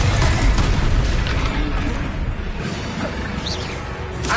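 A Confringo spell explosion erupts in the Hogwarts Legacy video game. A loud, dense booming burst opens the sound, then a crackling, rumbling wash follows as it slowly tails off.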